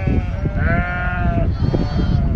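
Sheep bleating at a busy livestock market in Mecca, with several drawn-out, wavering calls rising over a constant crowd murmur and background noise.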